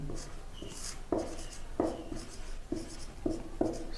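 A Hindi grammar lesson with a definition being handwritten, the pen scratching and tapping in short strokes, fairly close and clear against a quiet room.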